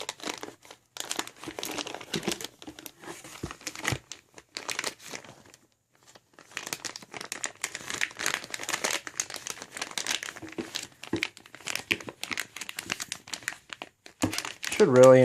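A plastic parts bag from a Mugen MBX7r ECO kit crinkles and tears open during an unboxing, a series of close, irregular rustles and crackles with brief pauses and a voice talking over parts of it.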